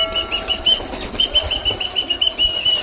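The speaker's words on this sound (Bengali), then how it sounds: "ফ্যাসা পায়রাটা ওরকম ভয় পেয়ে ওইদিকে চলে গেল কেন?" A pigeon flapping its wings in a quick series of close, fluttering beats, with a thin high steady tone running through the sound.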